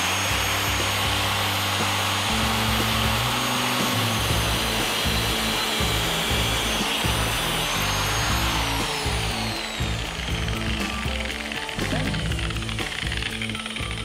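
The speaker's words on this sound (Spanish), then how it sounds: "vamos a ver cómo se corta con la amoladora de mano" An electric hand angle grinder cuts through metal in a steady, loud, continuous whine lasting well over ten seconds. The pitch shifts as the load changes, and no one speaks.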